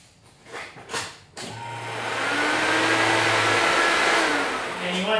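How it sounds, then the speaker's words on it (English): A Honda's electric fuel pump primes after the key is turned, following a fuel filter replacement: a steady whirring hum rises after a few soft clicks and runs for a few seconds before fading. "we're just going to turn the key and let the fuel pump prime"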